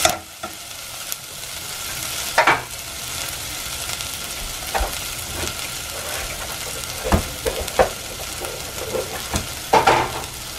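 Onions sizzle steadily in a new non-stick pan while a utensil scrapes and stirs, with periodic scraping clacks over the constant frying hiss.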